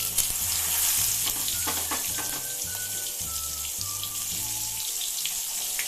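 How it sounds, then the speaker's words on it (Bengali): Ridge gourd pieces fry in a hot spice tempering for a mung dal dish, a steady sizzle with stirring scrapes and a faint low hum underneath, no talk. "ফোড়নটা ভেজে নেওয়ার পরে এখানে কেটে রাখা ঝিঙের টুকরোগুলো দিয়ে দেব।"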